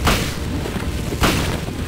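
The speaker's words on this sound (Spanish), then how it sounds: "Ok, ya le dimos otros dos balazos" Two loud gunshots ring out in the video game Silent Hill, each a heavy booming blast, spaced about a second apart with no other sound between.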